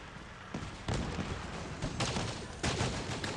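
Thusius weapon firing in a video game, a rapid string of punchy gunshot bursts that grows denser and louder, with busy game sound beneath.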